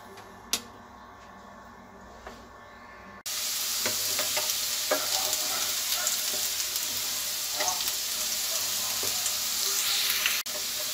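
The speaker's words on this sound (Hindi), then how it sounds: "हम इन आलूओं को उल्टा पलटा करते रहेंगे ताकि ये जल ना जाए, घुमाते रहेंगे इनको।" Potato pieces fry in hot oil in a kadhai for aloo chaat, a steady loud sizzle starting suddenly after a quiet moment, with occasional scrapes and clinks of stirring, and no voice heard.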